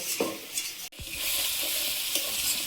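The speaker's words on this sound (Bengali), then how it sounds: "মশলাটার সঙ্গে সবজি আমার ভালোভাবে কষে গেছে" Mixed vegetables sautéing in a pan with salt, turmeric, chilli and cumin powder: a steady, close sizzle with brief stirring scrapes, one momentary dip, then continuous frying hiss.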